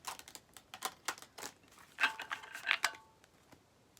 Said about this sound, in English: I did pre-shuffle your cards, so I'm just giving them one last shuffle.